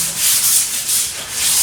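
320 grit sandpaper rubbed by hand over an epoxy headboard of cherry wood with green epoxy, a loud, close, steady hiss swelling and easing in back-and-forth strokes, with no voices.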